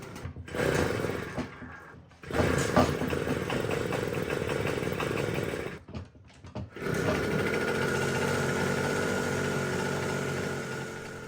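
A fifty-year-old Garelli Eureka Flex moped engine runs loud and raspy, buzzing steadily with a brief dip and stumble near the middle, then recovering to a sustained high-revving drone, unable to settle into an idle.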